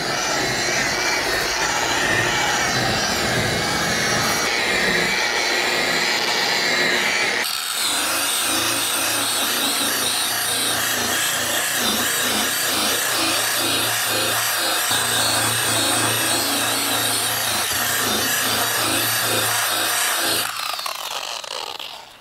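A buffing wheel polishes compound off the oxidized front of a camper, a steady loud rubbing whir that runs continuously, with a shift in tone midway before stopping near the end.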